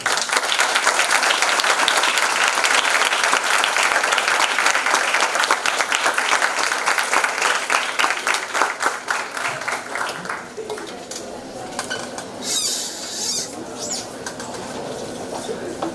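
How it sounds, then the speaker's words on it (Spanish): A strong round of applause at a formal results event as a minister leaves, loud and dense at first, then tapering into scattered claps and room murmur. "Les pediría por favor que para despedir a la ministra le demos un fuerte aplauso."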